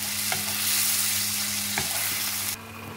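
Mushrooms and sausage fry in a pan with a steady, close sizzle and crackle that runs throughout, broken by a couple of scraping stirs; the sizzle drops slightly quieter near the end.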